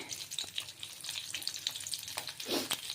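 Crushed garlic and black cumin sizzle in hot oil in a pan, a steady crackling fry with occasional stirring scrapes and louder spits.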